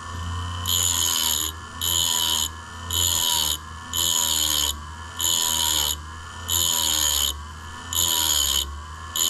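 A small electric piston ring filer grinding an engine ring for a 445 FE Ford engine: loud, rhythmic rasping bursts about once a second over a steady low motor hum.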